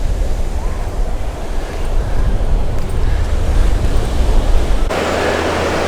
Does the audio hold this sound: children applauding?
no